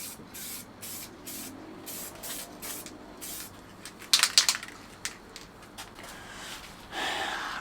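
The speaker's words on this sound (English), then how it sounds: "I've just done the first light spraying with this." Short bursts of spray hiss from an aerosol spray paint can coating a Volkswagen LT35 camper van dashboard, repeated in a steady rhythm, with a brief rattling clatter midway and a longer spray near the end.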